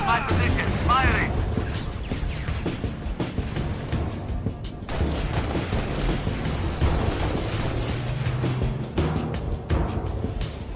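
Gunfire in Halo Reach: bursts of shots and heavy booming impacts rumble through a dense battle mix, with voices talking over the combat.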